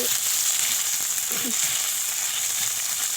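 Pieces of fish frying in a pan for a fish and bethua greens recipe, a steady loud sizzle with light crackling throughout, heard close up with no talk.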